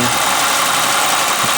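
A Suzuki Mehran engine idling at raised revs, a loud, steady, close mechanical drone with a faint rough vibration running through it, with no pauses.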